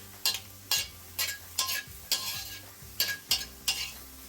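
Translucent onions frying in a pan are stirred in steady strokes, about eight close scraping swishes over a soft sizzle with no talking.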